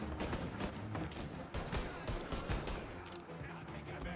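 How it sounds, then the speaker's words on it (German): Rapid bursts of gunfire in Mafia: Definitive Edition crack repeatedly throughout, dense and punchy like automatic weapons, with a steady mix of effects underneath. "Sauberer Schuss, Pauli"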